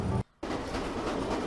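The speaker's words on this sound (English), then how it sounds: "I've actually got an empty train." Train running in the video game The Final Station, a steady rumbling rail noise with a brief dropout near the start before the continuous rolling resumes.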